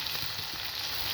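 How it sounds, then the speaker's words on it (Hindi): Okra (bhindi) frying in hot oil produces a steady, close hiss of sizzling that holds an even level for the whole short stretch with no voices. "इनको हमने तब तक फ्राई करना है भिंडियों को"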